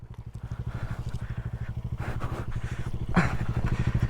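Motorcycle engine on an off-road trail, a steady rhythmic throbbing idle or low-revving thump that runs loud and close throughout, with a brief rev near the end.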